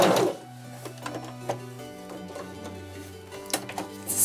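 A sewing machine stitching at stitch length 3, giving a short run of rhythmic mechanical clatter with a steady motor hum and light ticking, close and moderately loud.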